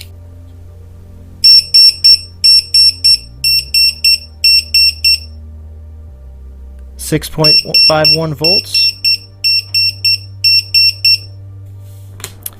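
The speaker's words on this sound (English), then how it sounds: "this thing has an alarm and will tell you that this battery is being dropped too far down" Two bursts of rapid, high-pitched electronic beeping from a LiPo battery low-voltage alarm in steady groups, fairly loud, with someone talking briefly between them over a low background hum.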